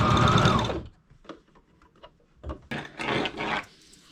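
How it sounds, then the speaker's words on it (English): A sewing machine stitches a thick piece onto a leather strip for a rifle sling, with a loud opening burst, quieter scraping and clicking in the middle, and another rasping run near the end; close up. "what I'm going to be doing is sewing this piece to the this leather strip"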